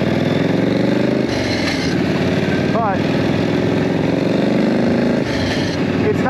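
A chopper motorcycle engine idles nearby with a loud, continuous low rumble and a steady throb that holds an even level from start to finish.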